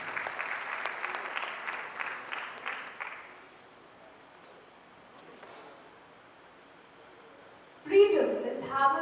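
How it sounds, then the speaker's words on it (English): An audience at a school debate event claps steadily for about three seconds before the applause fades into a quiet room, and a single voice begins speaking at the very end. "Round of applause, please."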